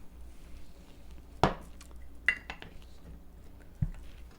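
A spoon clanks against a pot while red lentil, sweet potato curry soup ingredients are stirred, giving a few sharp metallic knocks and scrapes spread over several seconds with quiet kitchen noise between.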